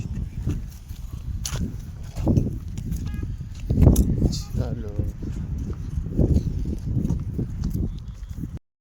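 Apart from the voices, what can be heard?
buffaloes walking, hooves clip-clopping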